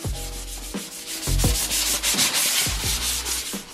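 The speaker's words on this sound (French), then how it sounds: "on part sur notre support que nous allons poncer pour avoir une meilleure accroche" A board is sanded by hand before decoration in rhythmic back-and-forth strokes, each a close, loud, gritty rasp, with no talking.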